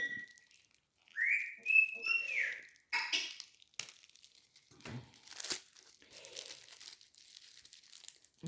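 Plastic packaging for a cross-stitch kit being worked open with old scissors, close crinkling and tearing of plastic film in irregular bursts, with a brief whistle-like squeak early on.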